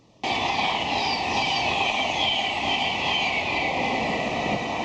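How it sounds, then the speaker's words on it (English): A Virgin East Coast Class 91 electric train rolls past close by, a steady broad rumble with a whining hiss that holds for several seconds without letting up. "as that lovely Virgin East Coast Class 91 just rolls past"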